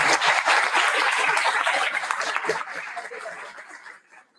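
Applause from a conference audience, a steady wash of clapping that gradually thins out and fades near the end.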